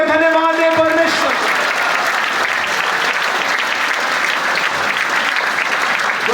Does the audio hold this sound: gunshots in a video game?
no